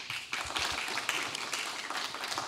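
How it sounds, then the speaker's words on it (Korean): Applause from an audience at a computer history seminar session, a steady crowd of hand claps filling the room as a guest is introduced, moderately loud and continuous throughout. "여러분 박수 부탁드립니다."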